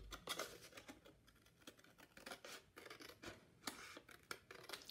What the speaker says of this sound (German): Deswegen nehme ich mir eine Schere und schneide den Zipfel hier einfach ab.